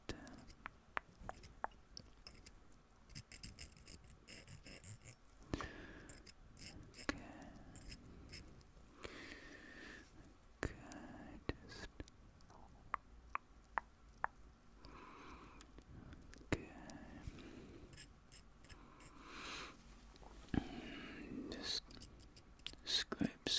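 Fine scraping and clicking of a dental scraper working at plaque in an ASMR dentist role play, close and soft, with whispering throughout.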